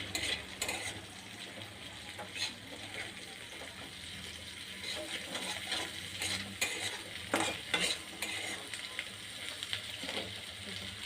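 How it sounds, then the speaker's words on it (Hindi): Chopped onion sizzles steadily in a pan while a utensil scrapes and stirs it in repeated strokes, close up and continuous throughout. "हल्का फ्राए होगा कटा प्याज"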